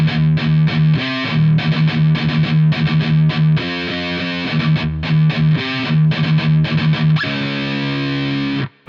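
Distorted electric guitar plays the opening riff of a song, a chugging rhythmic pattern with some palm-muted low notes, loud and solo with no talking.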